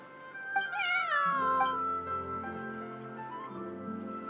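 A cat gives one drawn-out meow that rises and then falls. It is close and clear over a steady musical background that continues after the cry.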